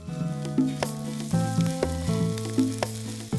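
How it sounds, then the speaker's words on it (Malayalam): Onions sautéing in a pan for egg molly, a close crackling sizzle broken by a few short scraping stirs and light clinks, with no voices. "ഉള്ളി ഒരു ഇച്ചിരി നല്ലതായിട്ടൊന്ന് വഴന്നോട്ടെ"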